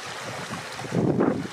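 Crystal-clear mountain water rushes in a stream near the Rila Lakes, a continuous broadband wash that swells louder toward the end, with no voices.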